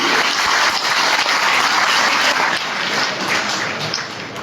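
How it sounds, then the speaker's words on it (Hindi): An audience at an all-India mushaira poetry gathering bursts into hearty applause, a thick, sustained roar of many clapping hands that stays loud before easing slightly toward the end, with no talking over it. "एक बार जोरदार ताली आपकी मौजूदगी को।"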